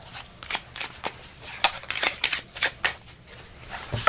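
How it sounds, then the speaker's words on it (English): Cards from the board game La Fantome de l'Opera being shuffled by hand in a rapid series of crisp riffling bursts, close and fairly loud with no talking. "So you'll shuffle those up."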